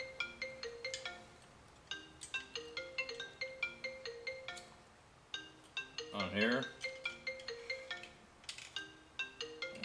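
A phone ringtone plays a repeating electronic melody in steady bursts over nearly ten seconds, fairly close, with a brief voice breaking in partway through.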